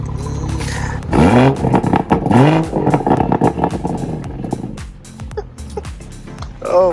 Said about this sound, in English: your car sounds so much better than mine.